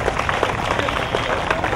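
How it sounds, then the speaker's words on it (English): Applause fills a gathering at a campus prayer event, a loud, steady crowd of clapping hands with scattered sharper claps and a busy room murmur underneath. "Please give a big clap, give a big clap."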